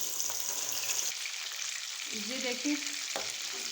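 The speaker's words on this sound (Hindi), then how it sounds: "अब हम ये फिश इसमें डालेंगे और इसको फ्राई करेंगे। तेज़ आंच पे इसको फ्राई करना है।" Fish frying in hot oil over a high flame, a steady loud sizzle running throughout, with a brief voice and some clinking and stirring sounds partway through.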